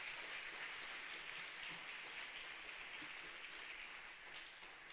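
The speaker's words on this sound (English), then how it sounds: "Please give a round of applause." Audience applause fills an award ceremony hall, a steady broadband wash of many hands clapping that holds evenly for several seconds at moderate, slightly distant level, with no talk over it.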